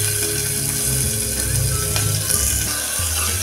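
Finely chopped onion goes into hot oil with mustard seeds and cumin in a pressure cooker, giving a loud, steady sizzle with clattering, ratchety metal scraping and rattling on top.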